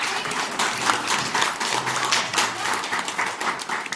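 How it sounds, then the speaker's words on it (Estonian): At a children's Father's Day party, a room of people claps in steady, dense applause at moderate volume, with a faint low hum and some small background noises underneath. "mina usun, et meie võime nüüd plaksutada"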